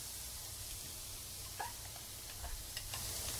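Red onions sizzle quietly in a pan with a steady, faint frying hiss, while a few light scrapes and clicks mark the stirring.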